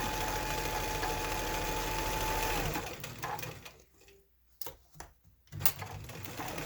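A sewing machine stitching applique material onto backing runs in a steady, close mechanical whir, then stops and restarts in short bursts with small clicks and pauses.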